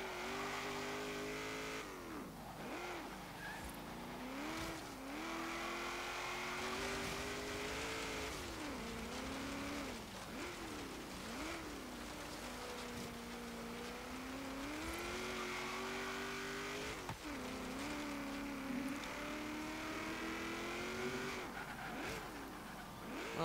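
A 1991 GMC Syclone races an autocross course in Forza Horizon 3, its engine revving up and down steadily through gear changes and corners, with brief tire squeals and no voices.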